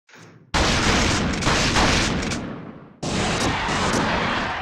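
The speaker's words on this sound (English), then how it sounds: "I'm going to use the shotgun" A shotgun firing in The Thing Remastered video game: two loud, booming blasts, each followed by a long rumbling decay, close and with no talk.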